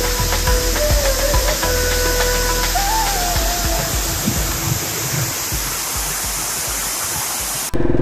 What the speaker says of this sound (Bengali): বিশাল ওয়াটারফলটা।